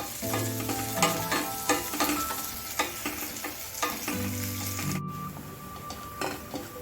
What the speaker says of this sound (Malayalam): ഈ സമയത്ത് നമുക്ക് പച്ചമുളകും ചേർത്ത് കൊടുക്കാം ചെറിയ തീര വെച്ചിട്ട് നല്ലതുപോലെ പൊരിച്ച് വറുത്തെടുക്കണം